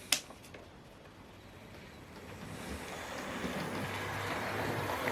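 A Hornby West Country class R2219 Blackmore Vale model locomotive couples up with a single sharp click, then a soft motor whir and rumble gradually builds, close and quiet, with no talk.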